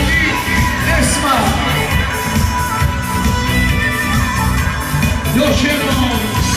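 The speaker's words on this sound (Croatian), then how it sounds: "Idem aplauz za naše prelijepe, najljepše mladence" Wedding guests cheer and shout in a loud, continuous crowd roar, with whoops and festive hubbub that carry steadily throughout.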